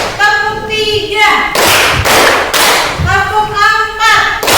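A group in an Indonesian classroom-style session claps in a counted pattern: one sharp clap, then two, then three, each burst of loud, close claps separated by spoken counting in between.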